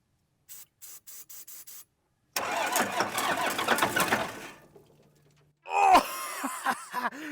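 A 1993 Dodge D350 with a Cummins diesel that sat in a swamp for more than 15 years: a series of short warning chimes, then the starter cranks hard for about two seconds, followed by a rough, loud engine noise.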